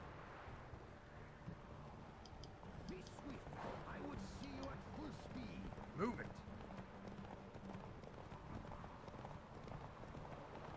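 Horses galloping in a race in The Witcher 3, rhythmic hoofbeats under game music and ambient noise, with a sharp crash midway and voices talking over it.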